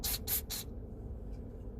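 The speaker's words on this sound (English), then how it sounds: "And I'll spray the spring and the electronics." Three quick hissing bursts of electronics cleaner are sprayed onto the spring and circuitry of a Thrunite TN12 flashlight tailcap being repaired, followed by a quiet stretch.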